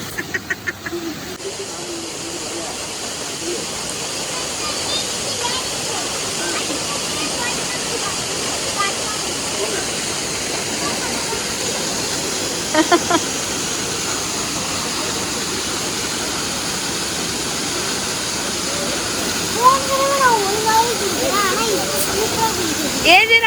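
Kutralam waterfall roars in a steady, dense rush of falling water close by, with people's voices rising faintly over the constant noise.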